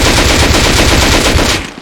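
LR-300 automatic rifle in the video game Rust firing a loud, continuous full-auto burst of rapid, evenly spaced shots that runs for almost two seconds and cuts off at the end.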